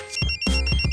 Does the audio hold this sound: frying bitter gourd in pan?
no